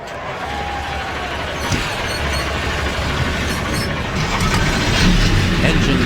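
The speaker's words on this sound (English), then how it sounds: "Engines are fired." Race truck engines firing up together in a racing video game truck series race, a rumbling low engine drone that builds and grows louder toward the end, a commentator's voice over it.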